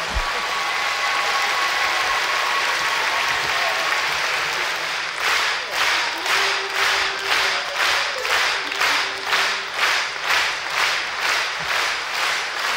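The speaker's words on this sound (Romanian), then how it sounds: "Mai aplaudați-mă, că așa îmi place!" An audience at a Romanian concert applauds loudly, first as a dense wash of clapping and then as rhythmic, regularly pulsing clapping in time.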